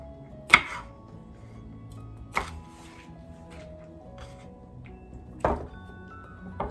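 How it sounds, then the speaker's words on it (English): A knife slices peas in half on a cutting board, with three sharp, separate chops spaced a couple of seconds apart against a quiet kitchen background. "Peas, I just want to cut in half."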